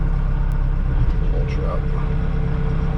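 A compact track loader's heavy diesel engine idles steadily with a low, constant rumble close by, while a person says a couple of words over it.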